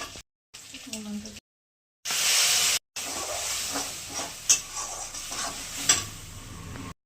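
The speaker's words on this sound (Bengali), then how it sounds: "দিয়ে একটু কালো জিরে ফোড়ন দিলাম" Nigella seeds tempering in hot oil while cooking a Bengali prawn kosha, giving a sharp burst of sizzling hiss after a short silence, followed by quieter crackle and stirring clatter.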